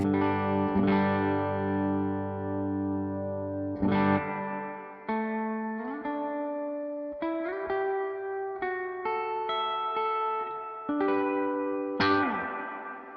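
Electric guitar played through a reverb pedal on a hall setting, sustained chords and single notes blooming into long, lush tails that wash over each other, with a few fresh strums breaking through at intervals; no talking.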